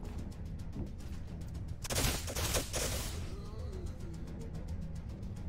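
Gunfire in the strategy game Age of Wonders: Planetfall, a burst of several loud shots and impacts in the middle, with quieter battle sounds before and after.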